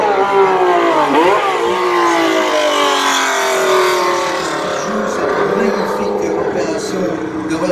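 A Ferrari 312B race car on its last lap, its loud engine note sweeping up and down as it revs close by, while someone talks over it.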